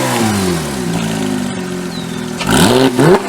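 A Porsche 911 GT3 with a race exhaust idles with a low throaty rumble, then revs up briefly and loudly before settling, close by and without voices.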